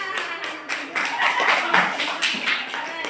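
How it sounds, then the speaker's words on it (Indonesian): A small group claps by hand, a brisk patter of overlapping claps, fairly close and lively, lasting a few seconds. "Tepuk tangan."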